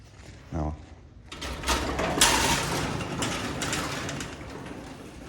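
The manual gate of a 1921 Otis micro-drive freight elevator slides and rattles with a steady, close metallic clatter of ratcheting and grinding, preceded by a brief voiced sound.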